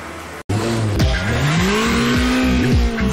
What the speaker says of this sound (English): This car goes like nothing you can possibly imagine.